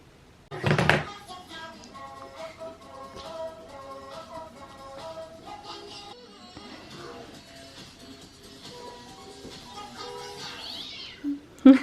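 A house cat meows indoors in a home, with a sharp thump at the start and a few short calls over quiet domestic background noise, ending in a loud knock.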